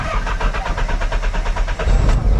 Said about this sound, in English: Yeah, that KA long crank.